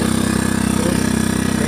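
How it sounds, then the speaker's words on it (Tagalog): A motorcycle engine strains on a very muddy rural road near a water crossing, a steady close, loud rumbling chug with no talk. "Nahirapan yung motor ko dito."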